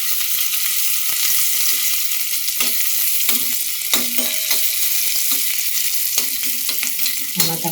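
Fried garlic is tipped into a hot pan for a crispy potato snack and stirred. A steady close sizzle runs throughout, broken by several sharp scrapes and taps from the spoon, with no talking.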